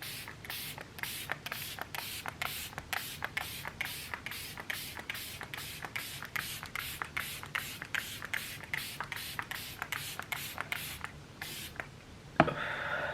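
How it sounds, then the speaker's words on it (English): Rapid, regular spray bursts of MCO Beauty setting spray from a pump bottle onto a face, around two per second for several seconds, close up, ending with a soft rustle. "I'm gonna use the setting spray by MCO Beauty."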